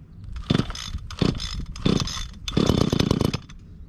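A gas string trimmer or blower engine from Stihl, Echo or Ryobi is cranked with several rough, rasping pull-start bursts that sputter briefly and then catch into a louder, ragged buzzing run near the end.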